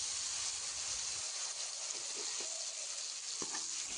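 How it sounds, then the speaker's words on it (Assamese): Chopped tomatoes hit a hot frying pan of oil, and a loud, steady sizzle hisses throughout with a few small clinks of the spatula near the end. "এতিয়া ইয়াতে মই কাটি ৰখা বিলাহীখিনি দি দিছোঁ।"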